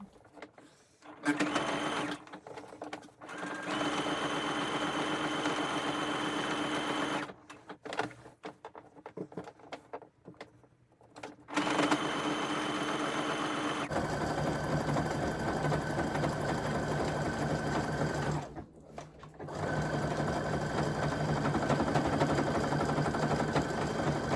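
A sewing machine topstitches along the seam of a sweatshirt being upcycled, its steady stitching running in several loud bursts separated by short pauses, with no talking.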